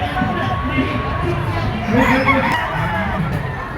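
A pure white Kelso gamefowl rooster crows at a crowded gamefowl show, its call mid-loud among other fowl clucking and background crowd chatter, with people talking nearby.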